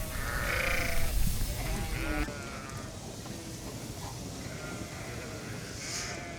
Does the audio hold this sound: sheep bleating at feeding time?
yes